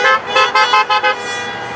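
Car horns from passing supporters outside Walter Reed Hospital toot in a rapid series of about five short loud honks close by, followed by steady traffic noise.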